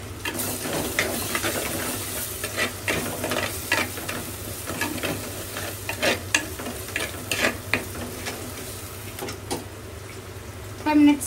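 Coriander and cumin powder being stirred into a South Indian river fish curry in a pan: repeated scraping strokes of a spoon over a steady low sizzle, close and fairly loud throughout.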